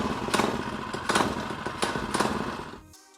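Stage 2 Predator 212 engine running on a Coleman CT200U minibike, a loud rapid single-cylinder putter with three throttle blips, then cutting off abruptly near the end.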